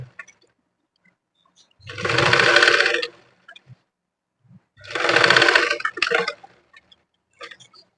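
A sewing machine stitches a blouse seam in two steady bursts of about a second each, separated by a pause, followed by a shorter run and a few faint clicks, with no voices.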